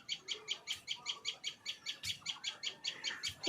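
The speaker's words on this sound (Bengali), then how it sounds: "কি একটা পাখি ডাকছে না, ওই এত ছোট পাখি চোখে দেখা যাচ্ছে না।" A small bird calls repeatedly in a quick, even rhythm of sharp high chirps, fairly close, with no other sounds.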